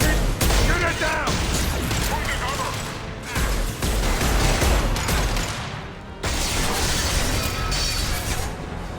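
Dense, sustained gunfire and crashing combat noise from the video game Mass Effect 2 fill the scene in three long bursts, with voices talking over the fighting.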